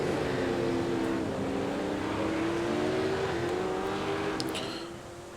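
V8 veteran race cars roar around a racing circuit, with loud engines rising in pitch as the pack sweeps through a corner, sustained and fairly close, then fading slightly at the end.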